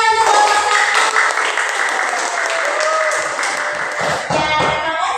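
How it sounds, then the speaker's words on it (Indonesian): A classroom of students claps together for a presenting group, a short burst of close, lively hand clapping that holds for several seconds with faint voices underneath. "Ya, tepuk tangan untuk kelompok 1."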